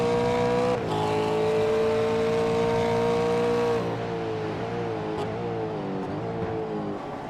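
A V8 race car in the iRacing sim racing game holds a loud, steady engine note, then steps down in pitch through quick successive upshifts as it pulls away, with no talking.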